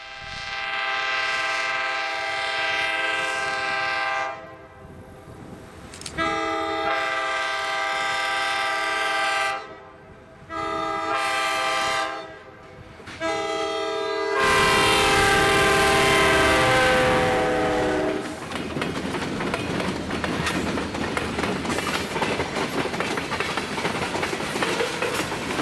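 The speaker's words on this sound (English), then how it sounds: "As the train crosses Benson Swamp, we watch as it passes our location at Himrod Road" A B&P freight train passes close by at Himrod Road beside Benson Swamp near Waterford, sounding several long, loud horn blasts separated by short gaps, followed by a steady rumble and clatter of wheels on the rails.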